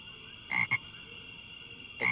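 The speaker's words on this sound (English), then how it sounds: "Maybe that's the frog." A frog croaking in the PS1 game Amerzone: The Explorer's Legacy, a few short, clear croaks in a quick pair and then a single call, set against a faint steady background tone.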